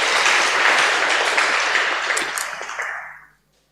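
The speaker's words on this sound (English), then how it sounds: "Clap for yourselves" An audience at an International Missing Children's Day event breaks into bright, dense applause that holds for a few seconds and then fades out to silence.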